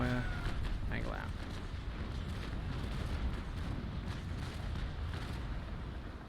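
Ship cannons fire in a Naval Action naval battle, a dense continuous roar of low booms and rumbling blasts, with a voice speaking over the barrage.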